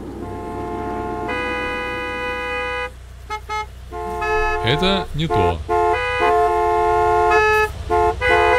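Car horns honk in the Gas Station Simulator game: long, steady, overlapping tones that hold and shift pitch, sounding almost without a break throughout. Someone speaks briefly over the blaring, and a wavering whooping tone rises midway.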